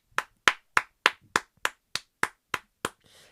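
Ten sharp, evenly spaced hand claps ring out one after another at a steady moderate pace, close and clear, ending in a brief soft rustle.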